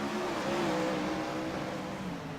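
Wingless race cars in a racing video game roar with a continuous, loud engine drone, the pitch shifting slightly as they accelerate, with no talking.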